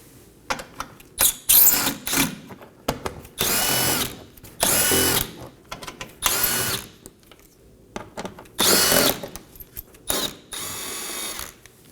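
A power tool spins out 7mm bolts holding the splash shield on a 2018-2024 Chevrolet Equinox 1.5L, giving repeated loud close bursts of whirring and ratcheting, each a second or so, separated by short quiet gaps.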